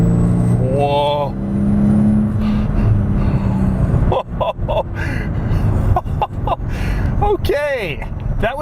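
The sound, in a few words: Mercedes SL65 AMG Black Series accelerating under throttle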